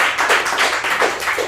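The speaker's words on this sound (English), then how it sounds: "round of applause to Taylor" A short round of audience clapping at a crypto DAO demo showcase in Toronto, dense and steady for a second and a half with no talk over it.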